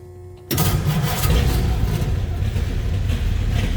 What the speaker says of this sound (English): Fuel pump, ignition, and push the button.